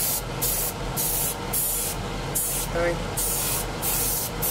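Spray paint dusted in repeated short bursts onto model aircraft wings, each hiss close and loud with brief pauses between, while a voice speaks briefly.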